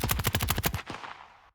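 Layered Modern Warfare gunshot sound effect with auto pan, a rapid burst of about eight punchy shots fired in quick succession, loud and close, ending in a fading reverberant tail.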